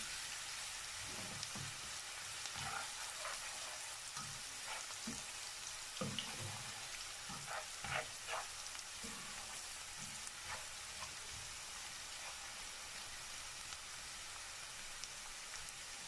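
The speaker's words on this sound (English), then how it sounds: "make it saute until it's transparent, like well done" Onions sauté in a pan with a faint, even hiss of frying, and occasional soft knocks and scrapes of stirring cluster in the first half.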